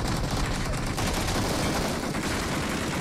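Sustained gunfire in PUBG Mobile, a loud continuous wall of rapid automatic shots and bursts with no clear gaps, heard with almost no talking.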